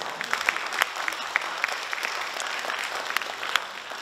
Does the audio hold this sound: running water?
no